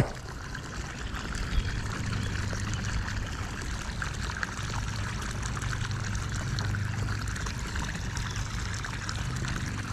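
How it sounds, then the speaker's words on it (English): A fish caught while fishing is tossed back into the water, with continuous splashing and trickling water that stays close and fairly loud for the whole stretch, with no talking. "We're gonna throw him right back in the water."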